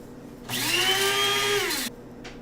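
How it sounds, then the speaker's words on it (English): A spice grinder grinding herbs fine for pizza dough, one steady high motor whine that runs about a second and a half and then cuts off sharply. "with the spice grinder, I can grind it really, really finely"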